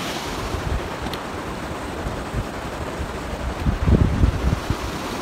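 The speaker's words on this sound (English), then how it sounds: "climbing out of the McLeod River." Water of the McLeod River rushes steadily below a footbridge, a broad continuous roar with some low rumbling swells and no voices.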